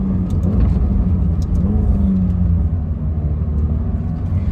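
McLaren 720S supercar on the move, heard as a steady, loud low engine rumble and road roar that holds evenly throughout with no voices.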